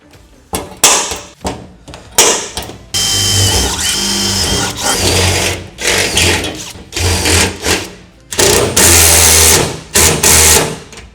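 Power tool setting a rivet nut (plus nut) into a Weather Guard lo-side truck box on a Ford F-150, giving loud bursts of whirring motor interspersed with short clicks and pauses, close up.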